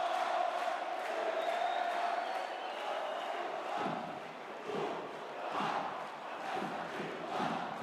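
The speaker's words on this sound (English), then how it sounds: "you can see the crowd getting into it here in the Pierre Gemayel Arena" Basketball crowd in Pierre Gemayel Arena, Lebanon, roaring steadily through a World Cup qualifier against New Zealand, with surging waves of shouting and cheering that swell and dip without a break.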